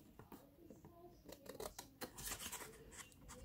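Scissors snip through a paper picture for a junk journal bookmark, a series of close crisp cuts and rustles that quicken and grow louder toward the end, with soft handling noise between.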